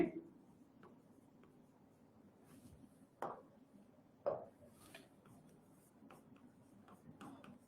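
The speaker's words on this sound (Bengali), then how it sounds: "আমরা এখানে সুন্দর করে লিখি অণুজীব" Teacher writing on a board during a science lesson, with faint scratchy strokes, two sharper taps as the writing starts, and quiet room sound throughout.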